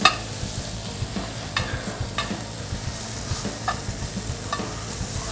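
Onions are stir-fried in a very hot pan on high heat, giving a steady loud sizzle with regular scraping taps from the stirring utensil and no talk.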